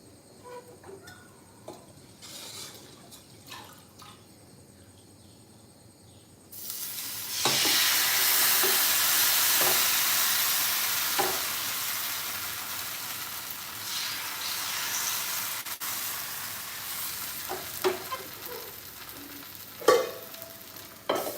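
A hot non-stick pan for cucumber dosa: quiet at first with faint clinks, then oil hits the surface and a loud, steady sizzle starts and carries on with occasional scrapes and taps.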